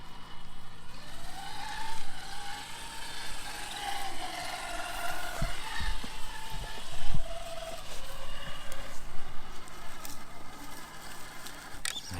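A Rlaarlo JK07 ready-to-run scale trail RC truck crawls over rocks on an outdoor trail, its electric motor whining steadily with occasional clacks and scrapes of tires and chassis on stone.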